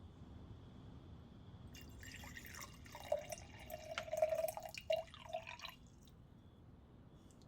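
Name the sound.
hot tea being poured into a cup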